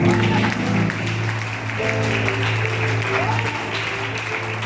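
A church congregation at an evangelistic service applauds and cheers in acclaim of Jesus, a loud, sustained crowd roar with clapping and a steady low musical drone beneath.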